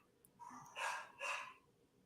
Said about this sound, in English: Apologize for my dogs right now.